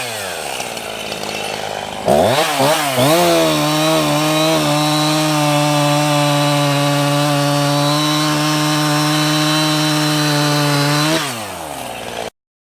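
A hot-started gas chainsaw, a Husqvarna, catches after about two seconds, revs up, and settles into a loud, steady, close-up idle before cutting off abruptly near the end.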